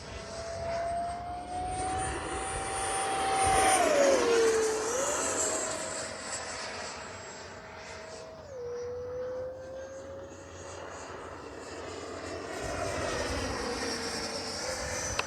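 A Freewing 70mm F9F-5 Panther RC jet flies past with a continuous whining turbine-like roar, pitch rising and dipping as it banks, fairly loud and steady for the whole stretch, no talking.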